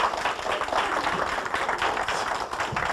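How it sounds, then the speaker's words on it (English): A Sunday morning church audience gives a steady round of applause, a dense continuous patter of many hands lasting the whole few seconds without any voices. "Get a round of applause here on Sunday morning"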